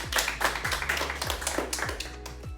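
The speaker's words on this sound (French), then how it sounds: "On peut applaudir quand même." Clapping from a small studio audience on a French college quiz show, a burst of hand claps with tapping rhythm over a steady low hum, fairly close and moderate in level.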